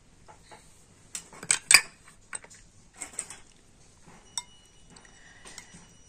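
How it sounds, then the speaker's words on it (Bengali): Semolina being stirred into warm milk in a bowl: soft scraping and a few light clinks of a spoon against the dish, sparse and quiet, with no talking. "তো এই দুধের সাথে সুজিটা ভালো করে মিশিয়ে নেব।"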